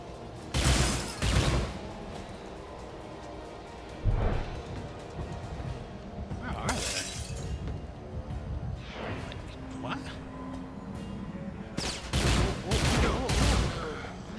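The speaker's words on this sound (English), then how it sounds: "Why are the scientists shooting at me?" Gunfire erupts in the video game Dark Athena as scientists open fire: loud bursts of rapid shots in several clusters, with quieter clatter and game sounds filling the gaps between them.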